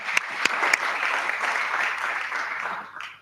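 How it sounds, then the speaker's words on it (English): An audience applauds for Sylvia at a pitch fest during the Presidential Innovation Challenge and Award, a full round of clapping with a few sharp claps standing out, steady and then tapering near the end. "Let's clap for Sylvia."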